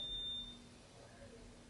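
A home yard gate sensor gives a single short, high electronic beep at the start, then only faint background hum remains.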